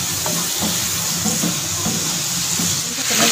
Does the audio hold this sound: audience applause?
no